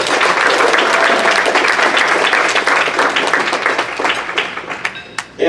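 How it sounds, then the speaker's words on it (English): Loud, sustained applause from an audience at a grassroots awards event, dense clapping filling the room before thinning out and tapering near the end. "So we owe them a big round of applause and thank you."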